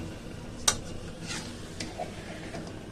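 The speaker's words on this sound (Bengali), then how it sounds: "এবার দিয়ে দেওয়া হবে পুরোটা মাংস, এবার আবারও কষাতে হবে।" Meat being stir-fried with spices in a pan, with a quiet steady sizzle and a sharp utensil clink near the start followed by soft stirring scrapes.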